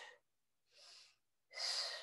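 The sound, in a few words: forceful exhale while punching in a workout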